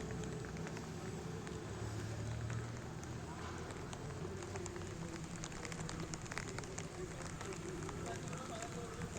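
Rain falls on a Puncha paddy field in the afternoon with a faint, steady, soft patter, and a voice talks over it.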